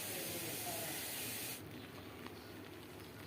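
Cabbage stir-fry poured into a hot pan, setting off a steady broadband sizzle that runs loud and continuous, easing slightly partway through as the pan settles.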